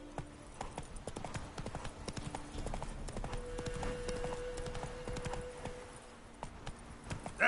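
Hooves of the horse Roach clip-clopping at a steady trot in The Witcher 3, a quiet, even rhythm over a soft game ambience with a faint tonal hum.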